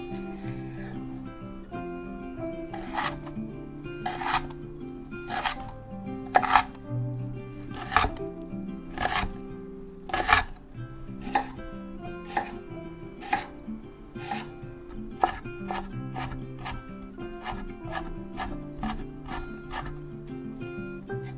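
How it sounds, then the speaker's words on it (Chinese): A knife chops pickled mustard greens, old ginger and red chili into fine strips on a board: a long run of sharp, steady cuts that speed up toward the end, close and clear. "酸菜、老姜跟大辣椒切成细丝"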